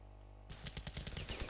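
Rapid automatic gunfire in the Ravenfield video game, a burst of close, loud shots that starts abruptly after a quiet hum and rattles on in quick rhythm.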